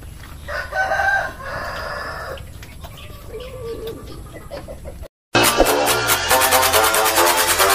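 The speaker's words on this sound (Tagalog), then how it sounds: "nandito na tayo sa ating munting manukan din mga kaludi" Chickens in a small backyard coop cluck and call, with a rooster's crow standing out, first sparse and close, then after a brief cut a louder, busier stretch of fowl noise.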